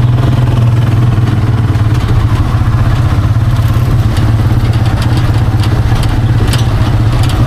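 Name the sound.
motor tricycle engine running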